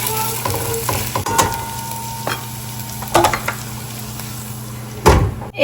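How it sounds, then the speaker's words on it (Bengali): Onions fry and sizzle in a pan with ginger garlic paste added, a steady close hiss broken by occasional stirring clatters and knocks. "পেঁয়াজটা হালকা একটু ভাজা হয়েছে, আমি এর মধ্যে এখন আদা রসুনের পেস্ট দিয়ে দেবো"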